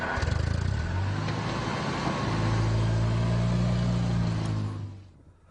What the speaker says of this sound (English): We're now going to move this vehicle